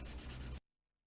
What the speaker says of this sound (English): I add ebony pencil for my shadows.